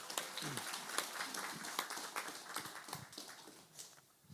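Applause from the audience at a Korean debate forum honoring war veterans, scattered hand claps forming a faint, moderately paced patter that thins out toward the end, heard from some distance.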